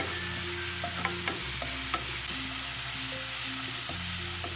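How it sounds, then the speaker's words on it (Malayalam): Crushed ginger-garlic masala with curry leaves frying in oil for an egg masala, a steady close sizzle with a few scattered pops and soft stirring scrapes, no voices. "നമ്മൾ ഇതിലേക്ക് ചതച്ച് വെച്ച നമ്മുടെ മസാലയാണ് കേട്ടോ ചേർത്തിട്ടുള്ളത്"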